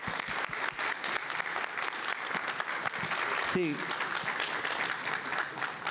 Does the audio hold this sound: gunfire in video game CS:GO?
no